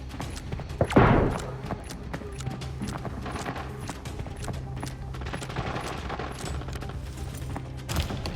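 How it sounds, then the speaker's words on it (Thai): Sustained distant gunfire from another squad in the shooter game Arena Breakout, with rapid overlapping bursts and scattered single shots rattling on for several seconds and a louder nearby blast near the start. "เหมือนจะมีอีกตี้เข้ามายิงตี้ข้างหน้าเรานะ"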